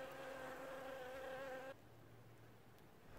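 Honey bees buzz steadily around a hive in winter snow in Newfoundland, a close, continuous drone that cuts off abruptly partway through, leaving a faint low hum.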